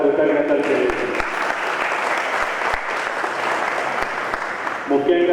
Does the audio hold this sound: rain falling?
no